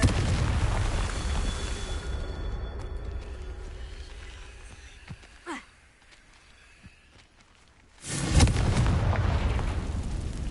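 A Confringo fire spell bursts in Hogwarts Legacy, a loud booming explosion with a rumbling tail that fades into quiet, a brief whoosh midway, then another heavy blast near the end.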